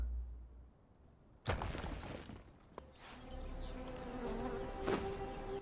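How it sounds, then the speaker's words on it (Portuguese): Flies buzzing around rotting meat in the Conan Exiles video game. Quiet at first, then a sharp impact, followed by a persistent close buzz that drifts in pitch and grows steadier toward the end. "tô escutando barulho de mosca aqui. É carne que tá apodrecendo, né?"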